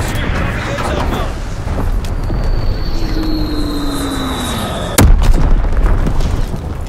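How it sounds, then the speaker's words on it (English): Mortar rounds and Azon bomb blasts in Call of Duty: WWII rumble as deep booms over aircraft drone, with a sharp loud impact midway and whistling descending tones, dense and continuous. "Dropping Azon bomb. Sending mortar rounds."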